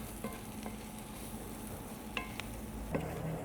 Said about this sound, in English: Kind of toast those spices, that garlic and onion and sesame seed in there.